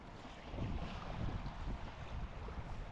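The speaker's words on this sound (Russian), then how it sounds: "Ветрено." Wind blowing over a lake in late November, a low, steady buffeting rush against the microphone with faint water movement, quiet and without voices.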